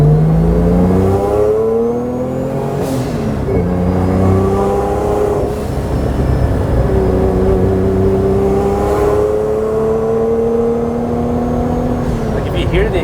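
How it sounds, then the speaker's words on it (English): A fully built turbo Honda NSX revving its engine, the exhaust note rising and falling through several loud, close pulls, with a voice talking over parts of it. "Like if you hear the exhaust, it sounds very Italian."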